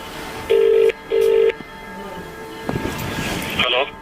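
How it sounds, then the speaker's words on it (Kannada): A phone rings twice in short electronic tones, followed by rustling and brief handling noise. "ಆಕಿದ ಫೋನ್ ಬಂತ"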